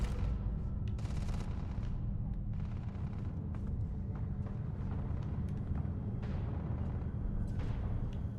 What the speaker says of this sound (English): Well, I hear some weapons fire.